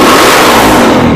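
Honda Mega Pro motorcycle engine revved hard with the throttle snapped open, a loud, close, continuous roar held through the whole second with no speech.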